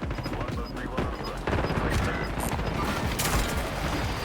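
Rapid gunfire crackles in a Warzone match, with bursts of shots, sharp cracks and clattering impacts layered over dense game noise.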